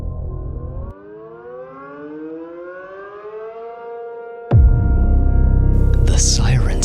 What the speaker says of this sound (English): A tornado siren ripped through the silence.